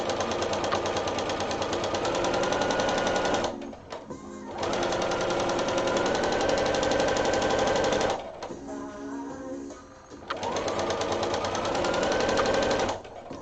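A sewing machine runs steadily while stitching a side seam, with two short breaks where the motor stops before it starts again, loud and close.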